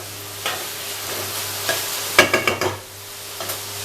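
Tomato gravy for prawn makhni is stirred in a hot pan under a steady background sizzle, with a spoon scraping and tapping in a quick cluster of sharp knocks near the middle.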